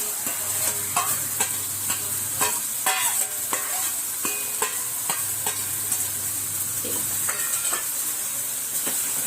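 Roasted vermicelli tipped into a sizzling pan with soft tomato masala and mixed for a spicy sev upma breakfast: steady loud frying hiss throughout, with repeated scraping and tapping of a spoon stirring close by.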